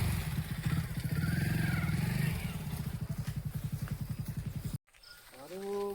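A motorcycle engine running close by with a rapid throbbing putter that slows into separate pulses, cuts off abruptly, then a voice is heard talking.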